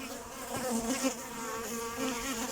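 Steady, dense buzzing of many bees close by, a continuous hum with no voices.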